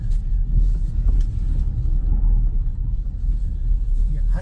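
Tire road noise from a 2019 BMW X5 on the move, a steady low rumble and road roar heard from inside the cabin, fairly loud and continuous with no talk.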